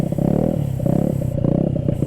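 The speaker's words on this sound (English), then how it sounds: "this SP exhaust by MNNTHBX does sound really good" A 49cc Honda Ruckus scooter with an aftermarket exhaust idles and revs with a deep, throaty exhaust burble, steady and close, rising slightly in pitch a few times.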